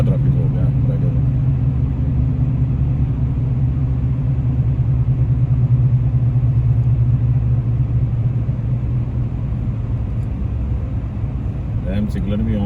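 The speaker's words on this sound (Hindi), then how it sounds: "बहुत ज़्यादा ट्रैफिक हो गया फ्राइडे को।" A constant low drone of cars, engines and an occasional motorcycle rises from a packed, jammed motorway in heavy Friday traffic, unbroken throughout, with someone talking over the rumble.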